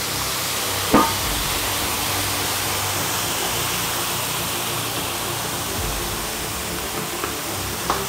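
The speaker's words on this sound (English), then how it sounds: "So I'm gonna go ahead and cover that and steam it with some water." Water splashed onto a hot grill under a cover to steam a burger patty hisses steadily and loudly for the whole stretch, a dense sizzling roar with a couple of faint clicks.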